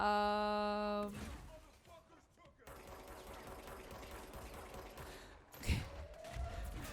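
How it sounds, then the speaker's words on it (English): Rapid weapon fire in the Control action game, a rattling run of shots under talk, after a tonal sound at the start and with a sharp impact late on. "now here you are just shooting him point blank"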